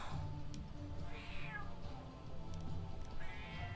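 A house cat meows in a drawn-out, wavering call with a second shorter meow near the end, close by over a low steady hum.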